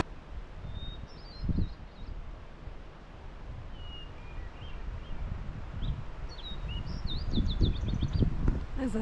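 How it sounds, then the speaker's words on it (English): A hermit thrush and a fox sparrow singing back and forth in the woods along a mountain trail, with thin, high, fluting phrases rising over a soft bed of rushing water and faint rustling. "There's a hermit thrush and a fox sparrow having a song contest here."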